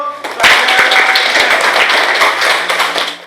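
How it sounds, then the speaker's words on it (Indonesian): Classroom of students clapping hands together, a close, loud flurry of uneven claps lasting about three seconds, with a voice audible at the start. "Tepuk tangan dulu."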